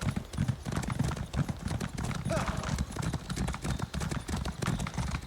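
Steady clip-clop of a horse mount's hooves in The Elder Scrolls Online: High Isle, a continuous rhythmic trot at moderate volume.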